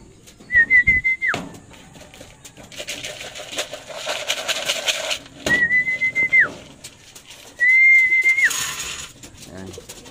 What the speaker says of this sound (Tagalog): Yung nasa kabila, mga kaibon. Ayan sila. Mga young bird din, mga kaibon.